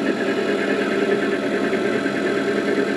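A metal lathe turns a mild steel bar being machined for a tap-holder with a tapered nose, giving a steady, continuous mechanical hum with a whirring drone throughout, close and constant with no talk.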